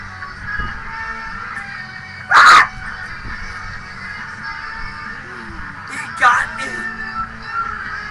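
A puppy gives two short, sharp yips several seconds apart, loud against a steady background hum.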